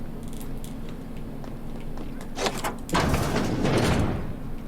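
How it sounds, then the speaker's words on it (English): A barred door in a game slides and thuds open or shut, a short scrape followed by a louder heavy rumble, close and alone with no speech. "that's the barred door"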